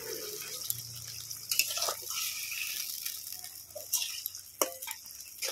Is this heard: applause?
no